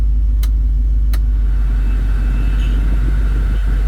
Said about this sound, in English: The blower motor. So let me turn the AC on max.